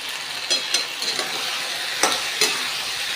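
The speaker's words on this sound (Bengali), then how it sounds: "ভালো করে কষাবো এবারে এটার সঙ্গে ডাটাটাও ভালো ভাজা হবে" Malabar spinach stems stir-fry with salt and turmeric in a pan: a continuous close sizzle broken by several sharp scraping strokes of a spatula.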